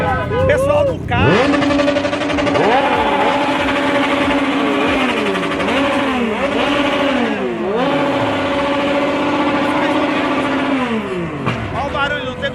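Motorcycle engines revving hard on a Boston street, loud and close, with repeated rising and falling revs layered over a constant engine drone and some talk mixed in.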